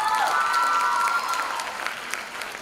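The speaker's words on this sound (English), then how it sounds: "So a big round of applause to your teachers." Audience applause and some cheering for teachers at a school annual day celebration, full and sustained, with a brief tonal sound near the start, tapering slightly toward the end.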